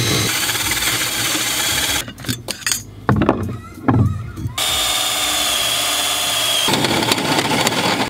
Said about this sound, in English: So we're just gonna go ahead and drill it right through.